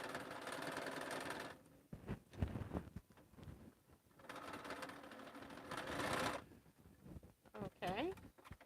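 A sewing machine stitches a quilt seam in bursts of steady motor whir, separated by short pauses filled with clicks and handling noises, while a person talks quietly between runs.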